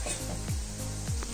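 Oil simmering in a pan for a homemade hair-growth remedy, a steady low bubbling sizzle with faint stirring scrapes and a couple of soft knocks, close and continuous.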